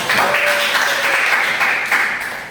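Classroom applause from a group of seventh-grade students, a steady dense patter of clapping filling the whole stretch at moderate loudness, with no talk over it.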